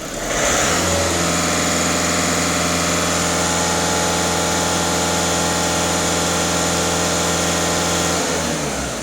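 Volkswagen Touran 1.6 TDI diesel engine idling during an emissions check, a steady, close, even mechanical drone with a constant low hum that holds unchanged for the whole stretch, with no talk.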